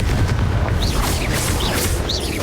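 Confringo fire spell blasts in Hogwarts Legacy on Nintendo Switch, heavy booming explosions with rumbling low end, overlapping whooshing magic effects and rising whistles repeating across the moment, loud and close.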